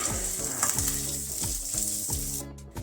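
Fenugreek seeds, crushed whole coriander and asafoetida sizzling loudly in hot oil for an aloo launji curry, with repeated scraping strokes of a spoon stirring through the crackle.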